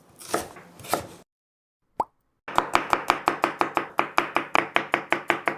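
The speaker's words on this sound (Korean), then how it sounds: "칼국수에 쓸 거 큼지막하게 자를게요" A knife cuts chicken thigh meat into large chunks on a board for chicken noodle soup, with a few soft handling sounds, a brief pause, then a steady run of about fourteen crisp, evenly spaced chopping thuds up close.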